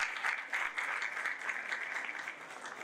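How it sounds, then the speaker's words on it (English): Audience applause at a Pakistan-US exchange alumni reunion in Karachi, a dense, even wash of many hands clapping at moderate volume throughout, without talk. "Please clap it."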